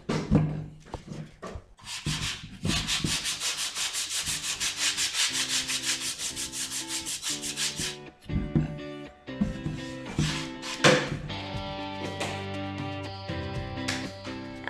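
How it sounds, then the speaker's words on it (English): A tabletop is sanded by hand with 80 grit sandpaper, roughing up leftover plastic: long rhythmic rasping strokes, close and fairly loud, with brief pauses between bursts. "80 grit sandpaper in the end, just to rough up all the remaining plastic bit"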